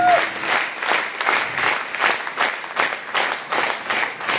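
A seminar audience in Faridabad applauds loudly, a dense continuous wash of many hands clapping at once, steady and fairly close for several seconds.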